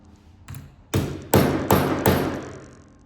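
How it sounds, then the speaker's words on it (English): A hammer bangs down one end of a metal belt clip on a belt: a soft tap followed by four sharp, loud metallic strikes at an even pace, close up with no talking. "You bang one end down first."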